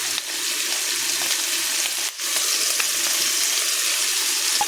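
Beef with seasoning salt frying in a pan for a Chinese dish, a steady close hiss and sizzle with a brief dip partway through.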